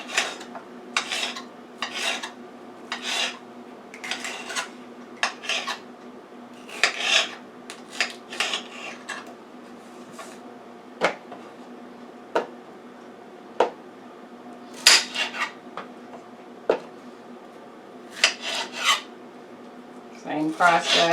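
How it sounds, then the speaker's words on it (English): A knife cuts squash into flat strips on a board, giving a steady run of short, crisp chopping taps close by, with soft talk underneath. "I always cut this bottom part off so that I can get the flat strips again."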